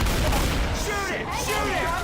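Rapid gunfire rattles continuously in the zombie shooter Left 4 Dead 2 as players fire at the Tank, dense overlapping shots with a low rumble beneath and a voice talking over it.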